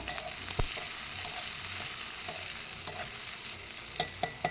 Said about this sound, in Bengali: পেঁয়াজ এবং মরিচগুলোকে হালকা ব্রাউন কালার করে ভেজে নেব